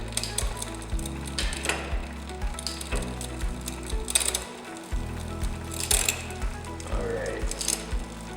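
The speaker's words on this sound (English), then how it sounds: "we're going to turn our barrel adjuster clockwise until one click equals one shift" A bicycle rear derailleur on an e-bike shifts gears with crisp ratcheting clicks over a steady mechanical whir of the turning drivetrain, close up, with repeated clicks at irregular intervals.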